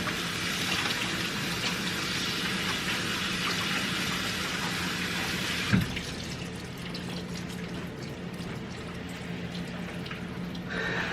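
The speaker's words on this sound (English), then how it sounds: "I'm going to put this in the sink and wash my hands off" Water runs steadily from a kitchen sink tap while someone washes their hands, a continuous close splashing flow throughout with a slight change in tone partway through.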